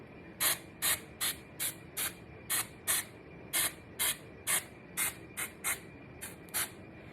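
Short bursts of root spray from an aerosol can onto a wig, about sixteen crisp hissing puffs in a steady rhythm, close and fairly quiet with no talking.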